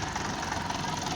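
A school van pulls up and idles nearby on a first day of school. It gives a steady mid-pitched engine rumble with a faint rattle and no voices over it.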